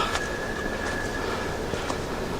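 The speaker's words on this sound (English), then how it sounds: "See here the train." A train rolls by beside a river hiking trail, a steady broad rumble with a faint high wheel squeal and a few light clanks, moderately near and without talk.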